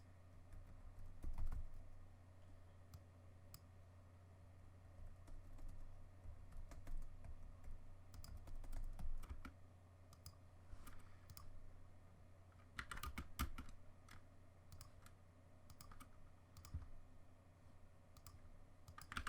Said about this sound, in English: I recorded keyboard sounds. Now just let me do some typing.